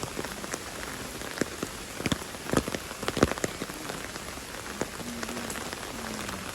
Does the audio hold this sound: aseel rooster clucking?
no